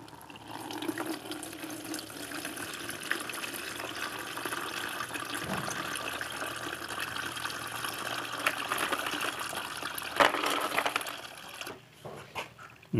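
Liquid from a carbon-based silver recovery solution, made from silver-plated coins and relay contacts, streams and trickles steadily through a filter for several seconds, with a few faint knocks near the end.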